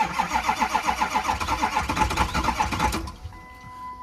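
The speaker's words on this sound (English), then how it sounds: "trying to fire because it ain't got no glow plugs" A 6.0 diesel truck engine with bad glow plugs cranking, a rapid rhythmic starter churn for about three seconds, trying to fire and then stopping into a quiet ringing hum.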